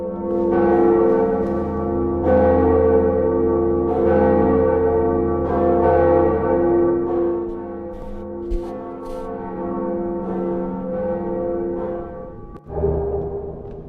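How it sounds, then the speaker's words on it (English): A large bell in the Dark Souls video game rings in slow, resonant tolls, each strike swelling and decaying into a long metallic hum, loud and alone, with a softer thud near the end. "ringing the first bell"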